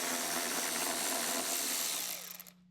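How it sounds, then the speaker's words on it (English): A Milwaukee cordless battery ratchet whirs loudly and continuously while backing out an 11mm bolt on a Harley-Davidson, then winds down and stops near the end. "I'll grab my Milwaukee battery ratchet and remove our 11mm from here."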